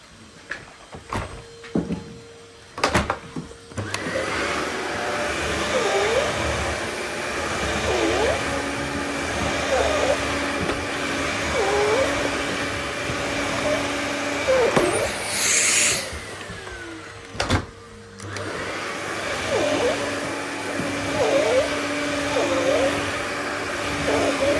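A vacuum cleaner running while a lounge is deep cleaned, a steady whirring drone with repeated bumps and knocks as the nozzle moves about, starting after a few clattering handling sounds and briefly cutting out midway.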